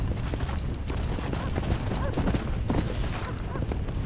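Rhythmic hoofbeats of a galloping horse in Red Dead Redemption: Undead Nightmare, dense and continuous, with background game noise and clatter throughout.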